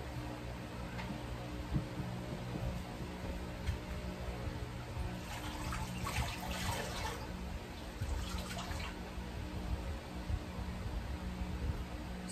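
Water sloshing and dripping as a basin of bed-bathing water is emptied and refilled at a patient's bedside, a steady close splashing and trickling that swells midway, with faint background hum and no talk.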